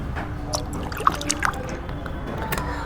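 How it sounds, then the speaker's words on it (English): Vinegar trickling into a container inside a model volcano for a school science experiment, a faint, steady dribble of liquid with a few small clinks, close by and alone. "First I am pouring vinegar,"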